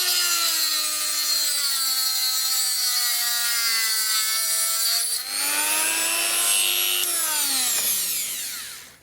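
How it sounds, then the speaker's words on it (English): A multi-tool, a Dremel-type rotary tool, cuts out a handbrake piece with a loud, steady buzzing whine. Its pitch dips midway, rises again, then fades out at the end. "we can do that with the Dremel, with the multi-tool"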